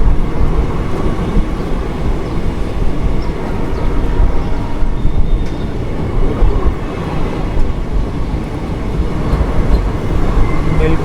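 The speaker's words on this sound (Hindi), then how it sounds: "बिल्कुल जो रेसिडेंशियल एरिया है उसके बीच से हमारी ट्रेन जा रही है।" Aboard the Jammu Tawi Jodhpur express as it passes through a residential area in Rajasthan, a loud, steady low rumble and rattle of the moving train fills the whole stretch without a break.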